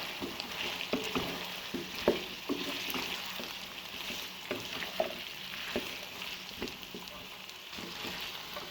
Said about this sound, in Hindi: मटर, साथ ही ऐड करने आलू। इनको अच्छे से मिक्स करना है।